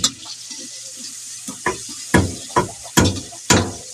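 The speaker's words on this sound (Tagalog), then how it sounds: "Igisa natin ang bawang. Sabay na natin ang sibuyas." Garlic and onions sauté in a pan for pancit gisado, with a soft sizzle broken by a string of sharp scraping and clanking strokes of a utensil against the pan.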